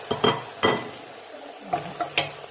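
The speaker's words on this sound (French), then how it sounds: "Je rajoute aussi mes carottes coupées" Chopped carrots go into a simmering pot of Kabyle stew, several quick clinks and clatters of a utensil against the pot with soft scraping between, close and fairly quiet, no voices.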